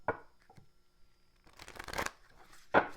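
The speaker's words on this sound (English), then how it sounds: "We're going to get a couple shuffles this way, and that way" Tarot cards being shuffled in a few quick riffling bursts, close up, with short pauses between the flurries of papery rustling.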